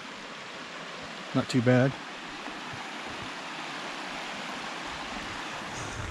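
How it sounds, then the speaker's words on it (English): A creek flowing beside an established campsite on a Georgia off-road trail, a steady broadband rush of running water throughout, with someone speaking briefly near the start. "Do have a creek here"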